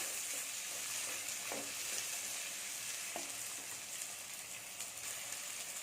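Four green chillies, split and slit down the middle, sizzle steadily in hot oil in a pan for a kanava (squid) masala, a continuous close frying hiss with a few soft stirring knocks.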